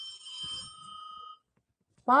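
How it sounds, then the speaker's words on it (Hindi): A telephone rings with a steady electronic tone for just over a second, then falls silent before a voice begins speaking. "ए शिल्पी जरा देखो फोन को"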